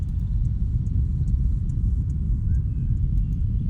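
Deep, continuous low rumble of an unstable island world in the Riven adventure game, steady and droning throughout with faint high ticks above.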